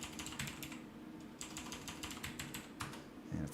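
Typing on a computer keyboard during a livestream, a quick run of light key clicks in irregular bursts with short pauses, close and fairly quiet.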